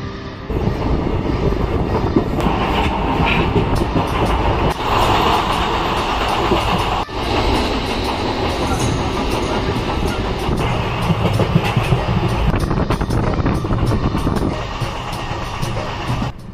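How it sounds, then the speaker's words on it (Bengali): A passenger train crossing Bihar rolls along the rails, a loud continuous rumble with rattling clatter heard from inside the carriage, steady throughout. "বিহারের উপর দিয়ে ট্রেন যাত্রার সব থেকে আনন্দময় অনুভূতি যখন ট্রেন টানেলের মধ্য দিয়ে যায়"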